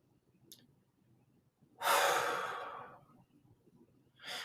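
A single slow, breathy exhale during a guided relaxation breathing exercise, close and soft, rising suddenly then tapering off over about a second, with brief faint breath sounds around it in an otherwise quiet room.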